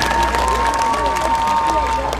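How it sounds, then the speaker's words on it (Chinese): Clapping and cheering rise from a crowd at an outdoor political campaign rally in Miaoli, Taiwan, a loud, dense and sustained ovation with some shouts mixed in. "大家把他掌声鼓励好不好？"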